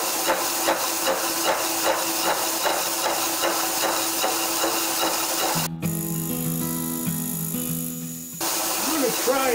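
A metal lathe takes a conservative 50-thousandths cut at a slow feed while making a broach bushing adapter. Regular rhythmic knocks run over a hiss, then a brief lower humming tone breaks in before the knocking returns.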